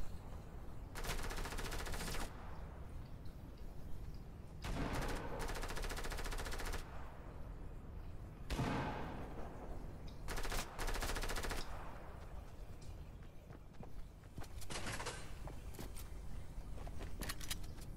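Automatic gunfire in Fortnite rattles out in several long bursts at a moderate distance, separated by short lulls, with a single sharper crack near the end and no talk.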